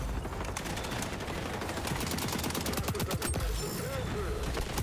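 Rapid AK-47 fire in the XDefiant shooter game, dense bursts of gunshots running steadily throughout with game sounds and faint voice beneath.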